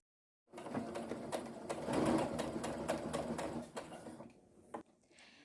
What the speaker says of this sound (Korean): 이때 위에 원단이 함께 박음질 되지 않게 주의하면서 박음질을 해주세요.